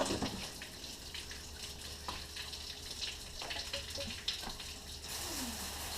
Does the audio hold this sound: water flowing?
yes